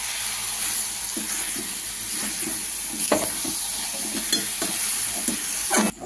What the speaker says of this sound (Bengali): এবার এটাকে দিয়ে আমি ভালো করে ভাজা ভাজা করব।